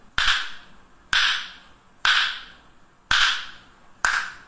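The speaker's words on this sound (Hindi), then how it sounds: "ले फिर मेरी टीटी पिस्तौल की फायरिंग।" A TT pistol fires five sharp, evenly spaced cracks, roughly one second apart. Each crack has a brief echoing tail, and nothing else is heard between shots.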